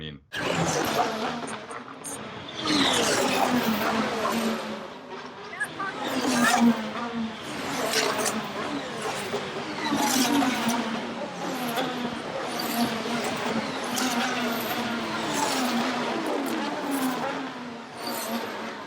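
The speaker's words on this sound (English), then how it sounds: "I had one video where it's like 20-second video where literally every single car in the entire field goes by, and the sound" Formula 1 cars at the Canadian Grand Prix stream past one after another, each a loud rising and falling engine whine, overlapping in a continuous roar heard from trackside with voices mixed in.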